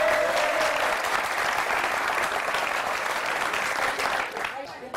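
A Moroccan TV studio audience claps in a full, steady burst of applause that tapers off toward the end.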